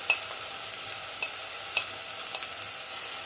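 Orange and lemon zest caramelizing in a pan, a soft continuous sizzle with a few faint clicks of a utensil stirring, no voices.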